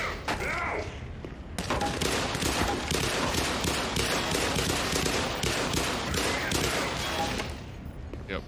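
Rapid gunfire from weapons in the game Black Mesa, a dense sustained barrage of loud shots with thuds, preceded by a brief quieter stretch.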